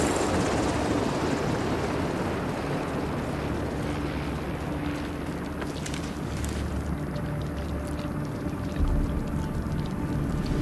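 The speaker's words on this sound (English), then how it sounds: "Recon 4 has a visual on an unknown helo headed east over the Potomac" A helicopter passes over the Potomac in The Division 2, a steady, loud rotor and engine roar filling the scene from start to finish with no break.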